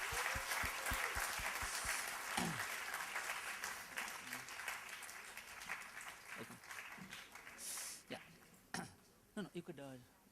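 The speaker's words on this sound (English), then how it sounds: "Could we have a round of applause, please?" Applause from a seated audience at a humorous speech contest, a dense wash of clapping that swells early and gradually thins out, with voices and a few scattered noises near the end.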